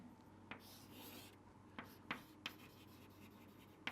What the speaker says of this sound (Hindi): तो मैं यहाँ लिख लेता हूँ